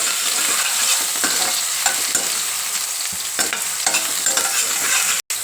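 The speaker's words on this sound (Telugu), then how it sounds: "వేసుకొని మంచిగా ఫ్రై చేసుకోవాలి" Soaked soya chunks sizzle and crackle steadily in a hot pan, with frequent stirring scrapes and taps of a spatula close by and a brief dropout near the end.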